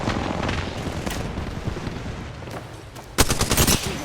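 Dense rapid gunfire rattles continuously, with a louder burst of shots near the end, like video game combat.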